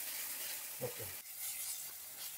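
Spice paste with onion frying in a pan for a Roopchand fish curry, a faint, steady sizzle with a couple of soft stirring scrapes, no voices.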